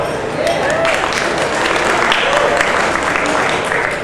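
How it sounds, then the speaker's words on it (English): Continuous audience applause at a stand-up comedy show, steady and fairly loud, with faint voices and cheers mixed into the crowd noise. "Clap it up."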